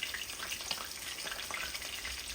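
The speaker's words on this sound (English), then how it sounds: "I'm going to go ahead and finish frying the rest of the fish." Fish frying in a pan for a country-style Sunday dinner, a dense, steady hiss and crackle of hot oil, close and continuous without talk.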